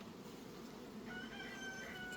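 A faint rooster crows in the distance over a steady low outdoor hum.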